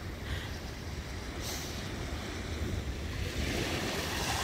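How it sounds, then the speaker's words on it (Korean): Ocean waves at the seashore in Pohang, South Korea, a continuous close wash of surf with wind buffeting the microphone, steady and moderately loud with no talking. "파도 소리 너무 좋아."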